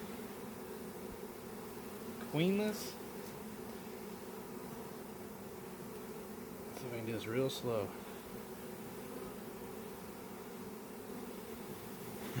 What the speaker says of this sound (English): I can feel them buzzing.